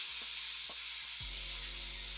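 Drained ground beef sizzles back in a hot pan for burritos, giving a steady, broad hiss with a few soft clunks early on. No one speaks.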